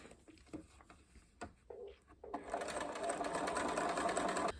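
Short taps and brief starts give way to a sustained, steady run as a sewing machine stitches a dress seam a few millimetres from the edge, close and clear, with no talking.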